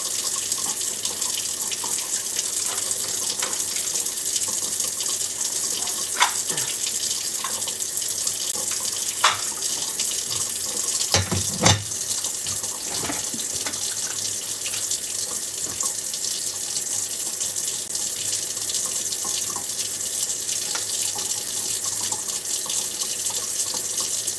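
A tap runs steadily into a sink, a continuous hiss of water with a few faint clinks and drips scattered through it, moderately quiet and without talk.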